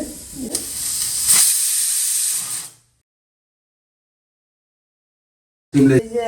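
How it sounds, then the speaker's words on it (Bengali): A pressure cooker cooking mung dal lets out a steady, hissing steam whistle for a few seconds before it cuts off into silence, followed by a brief clatter near the end. "ওই যে ডালের সিটি দিতে শুরু করেছে"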